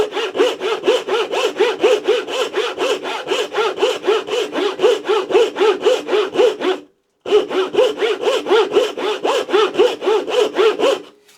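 A blunt, rusty thin turning saw blade cuts through pine wood in steady rhythmic back-and-forth strokes, close and clear, with one brief pause before the sawing resumes at the same pace.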